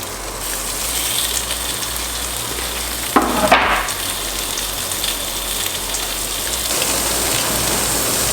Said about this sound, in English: Put these ones here back onto the stove now and finish cooking them through.